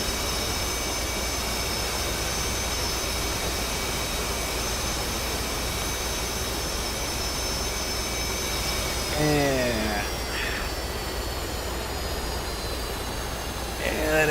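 Simulated jet engine in the DCS World flight game, aboard a carrier, droning steadily at first, then whining and descending in pitch as it spins down, with faint talk in the background.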